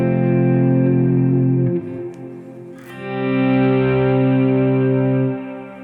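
Electric guitar on the neck pickup swells in slowly under heavy reverb, sustained chords blooming and fading into a washy tail, with a brief dip mid-phrase before the next swell rises, with no talking.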